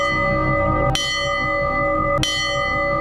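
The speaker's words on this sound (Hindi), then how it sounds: "घंटे की आवाज" A resonant bell is struck twice, about a second apart, each hit ringing out with long sustained tones that hum on between strikes, loud and close with no talk.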